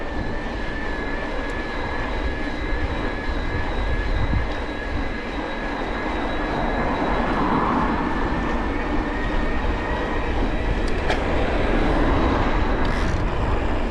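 A loud, continuous rumble and roar of a passing electric commuter train, heard from a moving electric bicycle, with a steady whine running throughout.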